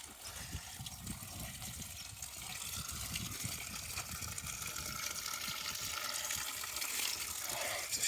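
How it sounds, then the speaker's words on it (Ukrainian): Mountain spring water in the Carpathians streams steadily across a road, a continuous close gushing rush that builds slightly louder toward the end, with no voices. "Джерело тут. Тече через дорогу вон туди."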